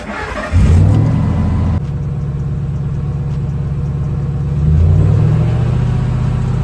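A car engine turns over, catches and roars, holding a steady loud rev before climbing again near the end.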